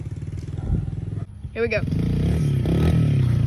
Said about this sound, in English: Alright, we're fixing to get some wheelie action